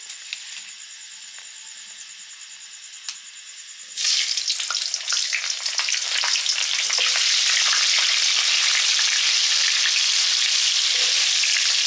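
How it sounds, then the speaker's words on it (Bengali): Potatoes for a mutton curry drop into hot oil and burst into a loud, crackling sizzle after a few seconds of quiet background hiss, then keep frying steadily and close up. "এবারে মাংসের আলুটা ভাজবো।"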